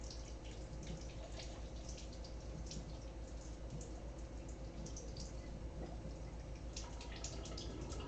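A kitchen tap runs steadily while food is rinsed under it, producing a faint, continuous, even hiss of falling water with no talking.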